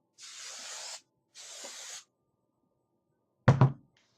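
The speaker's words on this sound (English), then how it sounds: "Then I'll take my hairspray." Hairspray hisses onto curled hair in two steady bursts, each about a second long, then a single hollow thunk as the can is set down, with no talking.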